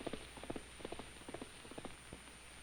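Bareback horse hooves clip-clop on a forest trail at a steady walking rhythm, distant and faint beneath a hissy film-era recording.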